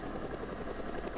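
Helicopter in flight in Just Cause 2, a steady close rotor chop with a continuous engine hum, no voices.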